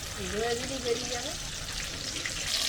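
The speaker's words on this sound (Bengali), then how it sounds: "আমাদের ঝিঙের দোলমার ঝিঙে ভাজা হয়ে গেল" Soft sizzling of food frying in oil, steady and fairly quiet, with a brief tonal sound near the start.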